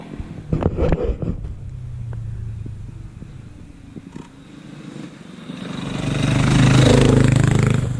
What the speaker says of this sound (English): here we go, noisy motorbike.